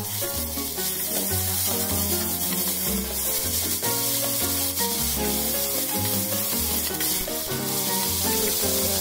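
Taro pieces fry in olive oil with garbanzos, giving a loud, steady sizzle close by while music plays throughout.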